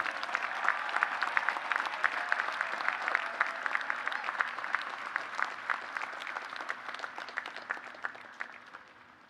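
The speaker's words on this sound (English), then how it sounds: "Let's give a cheer for Christian." A crowd at a university honors convocation applauds steadily for about nine seconds, a dense wash of clapping that thins toward the end.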